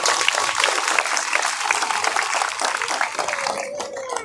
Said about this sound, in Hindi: एक बार सुंदर ताली बजाइए